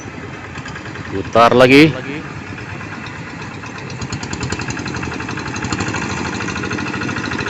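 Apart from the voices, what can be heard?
hand tractor engine running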